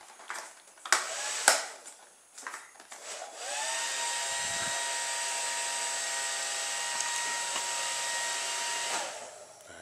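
A small fan-driven toy car running in reverse, its propeller giving a steady high-pitched whirring drone after a few clicks and bumps, fairly close and alone.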